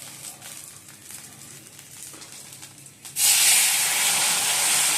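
Nigella seeds and fish hitting hot oil in a pan, a soft quiet stretch breaking into a loud, steady sizzling hiss that holds close up to the end.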